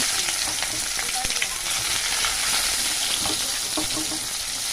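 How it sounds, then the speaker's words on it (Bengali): Onions sizzle in hot oil with bay leaf in a pan, a constant bright crackle with occasional scraping stirs, close and alone without talk. "পেঁয়াজটা লাল করে ভেজে নিতে হবে।"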